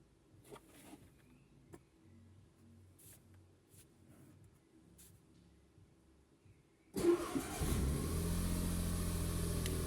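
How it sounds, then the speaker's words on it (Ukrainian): A 2000 Smart Fortwo 450 with a starting fault and clutch actuator problem cranks and fires up after quiet ticking and faint buzzing, its engine then running loudly and steadily. "Все, автомобіль має зараз запуститись."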